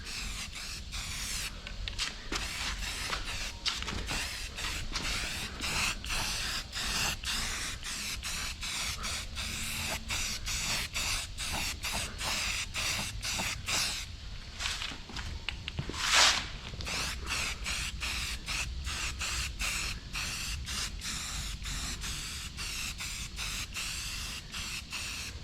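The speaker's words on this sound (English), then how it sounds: "Give her a nice coat of primer over all the spider webs and everything," Primer being sprayed onto a Pontiac Fiero subframe from an aerosol can, a run of short rhythmic hissing bursts close by, with one longer spray near the middle.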